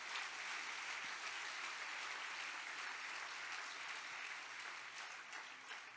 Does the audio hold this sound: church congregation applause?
yes